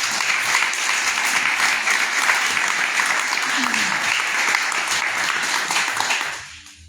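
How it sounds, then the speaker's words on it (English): A crowd at a museum appreciation event for Memphis musicians gives a loud round of applause as performers come up, thick sustained clapping with voices mixed in, fading away at the end. "give a good round of applause as they come on up"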